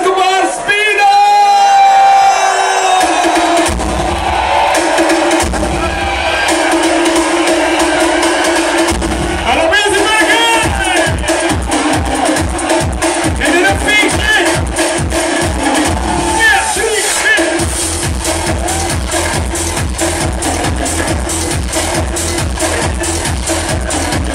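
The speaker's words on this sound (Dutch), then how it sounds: "Ontvang ze met een daverend applaus." A large festive crowd at the Izenbergecross 2013 event cheers and claps near the start, then loud, pounding rhythmic dance music takes over.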